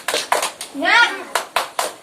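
A primary-school class does a rhythmic clapping chant: sharp, close claps in quick groups, with a short chanted shout from the children in the middle.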